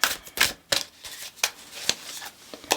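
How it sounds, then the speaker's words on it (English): A deck of oracle cards is shuffled at a tarot-style reading, giving a series of soft, quick riffling bursts close up with short pauses between them. "We're always shuffled, but you know, I like to shuffle away."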